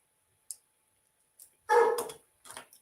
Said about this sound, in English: I don't know if that is picking up that dog too